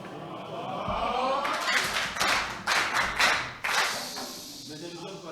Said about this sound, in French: Je veux juste qu'on applaudisse pour lui.